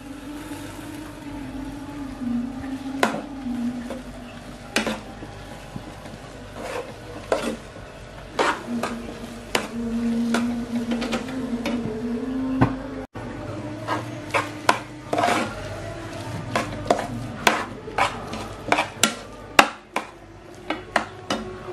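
Flour being stirred into a creamy instant noodle croquette mixture in a pan: repeated scraping and rubbing strokes of a spatula with sharp clicks against the pan, under a steady low burner hum, close and without talk.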